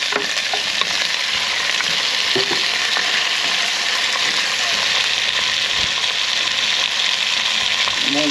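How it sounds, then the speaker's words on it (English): Frozen carrots go into a cooking pot, bringing a steady, close sizzle and stirring scrape that runs unbroken throughout. "Now I'm going to go in with about a cup of carrots."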